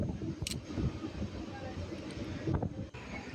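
A moving train rumbles steadily with a low rolling clatter of wheels on track, heard from on board at a fairly quiet, continuous level.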